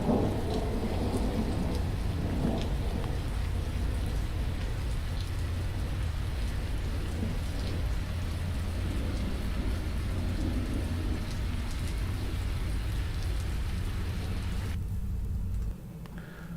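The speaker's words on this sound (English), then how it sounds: "can you guys hear the rain and the thunderstorm?" Steady heavy rainfall pours down with deep rumbling thunder rolling underneath throughout, the roar dropping off abruptly near the end.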